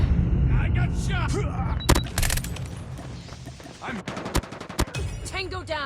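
Rapid automatic gunfire and sharp single shots crack in bursts through a Call of Duty Mobile Hardpoint match on the Shipment map. Loud, close reports are scattered among game voice callouts and other battle sounds.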